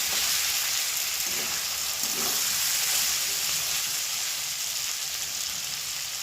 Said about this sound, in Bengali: এইভাবে ভালো করে মশলার সঙ্গে 2-3 মিনিট কষিয়ে নেবেন।